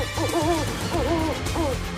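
An owl hoots three times in a short, wavering series, moderately loud against a quieter musical background, added as a sound effect over a song.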